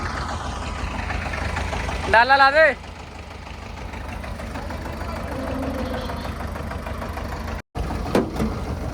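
A tractor engine idles steadily with a low mechanical rumble while spreading manure, people talk nearby and a brief whine rises over it.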